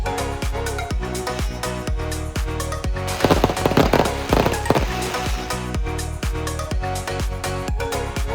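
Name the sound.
fireworks exploding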